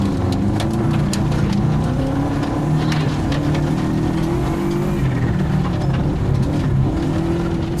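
Race car on a track in a first real race, engine droning and rising in pitch under throttle with clicks and road noise, loud and close, no talk.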